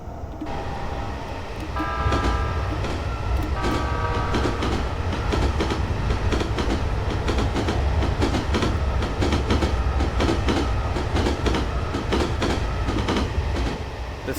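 A JR East Keihin-Tohoku E233-1000 commuter train runs steadily on its line in Train Simulator, with a continuous low rumble of motors and wheels and a rapid, irregular clatter over the rail joints. A brief tonal whine rises near the start.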